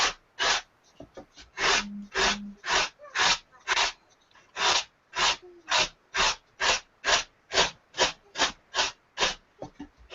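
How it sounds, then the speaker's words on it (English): Coarse sandpaper rubbed back and forth over a carved shape in a workshop, a steady run of about twenty close, even rasping strokes with brief gaps between them, heard alone without talk. "try and get a little bit closer to the actual shape with the coarse sandpaper"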